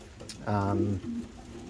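A pigeon gives one low, throaty coo lasting about half a second, close and distinct, followed by a fainter murmur.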